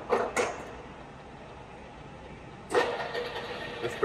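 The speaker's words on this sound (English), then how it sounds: "The spindle speed has been increased to 90 rotations per minute." On a TOS FA4V vertical milling machine from Czechoslovakia, the spindle speeding up brings two short whirring surges with clunks, separated by a quieter low machine hum.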